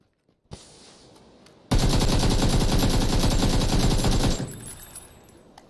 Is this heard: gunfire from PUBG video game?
yes